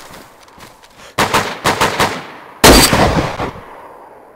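Two heavy .338 sniper rifle shots in DayZ Standalone: a first sharp report followed by a burst of rattling echoes, then a louder, harder second blast whose tail fades away.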